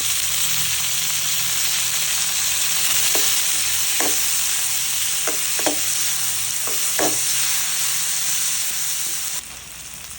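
Onion and tomato sauté in a pan for Filipino ginisang gulay: a constant close sizzle with repeated scraping stirs of a spoon against the pan, about eight strokes, the frying softening slightly at the end.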